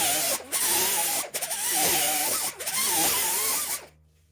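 A die grinder smooths welded metal on a Crown Vic swap, a loud high whine that rises and dips in pitch as it bites the weld, cutting out in brief gaps and stopping at the end.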